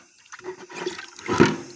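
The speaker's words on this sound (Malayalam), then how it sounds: "ആസിഡ് ഇതുപോലെ ഒരു ഔൺസ് ഒഴിക്കാം ബക്കറ്റിൽ ഒഴിച്ചിട്ടാകുമ്പോൾ അതിന് ഇളക്കൊന്നും വേണ്ട" Acid pours into a bucket with a gurgling splash that swells into a louder gush near the end, no voices.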